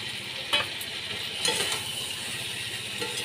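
Fried prawns stir-frying with garam masala in a pan, a steady sizzle close by, broken by a few scraping clinks of a spatula against the pan.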